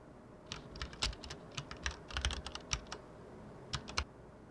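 Keys clatter on a computer keyboard as a Linux update command is typed into a terminal, in quick irregular bursts of clicks with short pauses, close and fairly quiet, with no talking.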